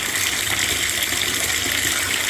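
Warm water gushes steadily from a tap into a bathtub as it fills, a close, continuous splashing rush with no pauses.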